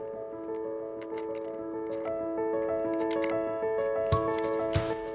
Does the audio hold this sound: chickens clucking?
no